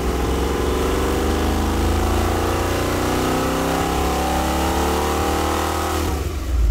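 On a dyno, a Mondello-built 455 Oldsmobile big-block V8 revs hard and loud, its pitch climbing steadily under sustained throttle before it drops off sharply near the end.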